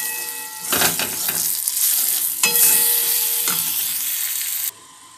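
Chopped tomatoes being stirred in a frying pan while frying for a Bengali dish, steady close sizzling with scraping spoon strokes, ending abruptly near the end.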